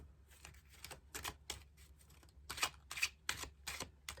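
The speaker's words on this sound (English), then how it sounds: "That's how I shuffle my cards." A deck of Kipper fortune-telling cards with silver edges is shuffled by hand, producing a run of crisp, close riffling bursts at an uneven pace, each one a dry papery flutter.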